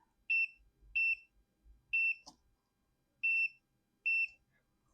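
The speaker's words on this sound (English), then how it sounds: "The easiest way to do that is just get your multimeter in continuity." Multimeter in continuity mode beeping while probing pads on a salvaged Pokémon Mini handheld: five short, clear tonal beeps at an uneven pace, each lasting a fraction of a second, close and loud with quiet gaps between.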